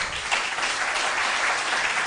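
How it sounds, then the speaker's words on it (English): A school quiz audience applauds with dense, steady clapping from many hands, loud and continuous for a couple of seconds with no talking over it. "Round of applause."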